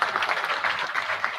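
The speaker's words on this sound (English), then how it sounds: "Could we again give them a round of applause?" Brief burst of dense applause from an audience at an investment conference in Kisumu, steady clapping at moderate volume with no voices over it.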